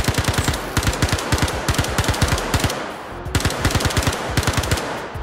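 Rapid automatic gunfire from a first-person shooter video game, two long bursts of evenly spaced, loud shots separated by a brief pause.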